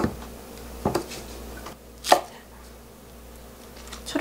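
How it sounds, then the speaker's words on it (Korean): A kitchen knife chops crab sticks into thirds on a cutting board, with two or three distinct, close, sharp thuds spaced apart and quiet pauses between them, no speech. "마살을 이렇게 딱 3등분해서요. 이것도 다시 반으로 잘라줍니다."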